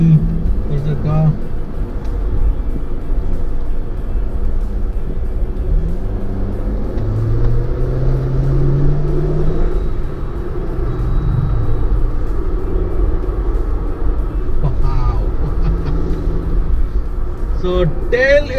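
A 2020 Jeep Wrangler Rubicon engine rumbles steadily and revs under load during a hard off-road drive, with a continuous low roar and occasional surges, heard close over a voice speaking.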